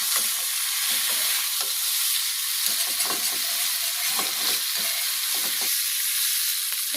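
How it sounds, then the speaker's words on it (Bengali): Deep-fried soybeans being stirred into vegetables in a pan in a village kitchen, with a steady loud sizzle and repeated scraping strokes of the spoon throughout. "তো এইটা দিয়ে হচ্ছে একটু হালকা নাড়িয়ে নেব"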